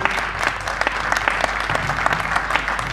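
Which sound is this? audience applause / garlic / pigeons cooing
audience applause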